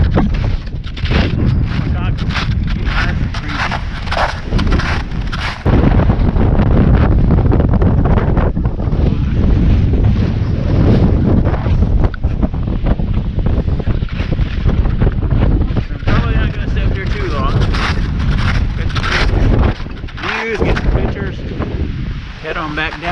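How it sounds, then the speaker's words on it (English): Strong wind roars and buffets the microphone on a winter hike up Cat Mountain, a loud, continuous rumbling gust that barely lets up, with a brief lull near the end. "Stay out of the wind."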